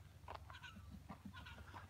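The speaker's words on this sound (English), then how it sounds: "What's that bird doing?" Bird calls repeat in short, faint clucking notes in the bush at daybreak near Fraser Range on the Nullarbor in Australia, with a low steady hum underneath.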